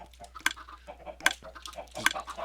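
Chickens clucking in Minecraft, short soft clucks and cackles repeating in a loose rhythm, with three sharper, brighter sound effects standing out at regular intervals over a quiet low hum.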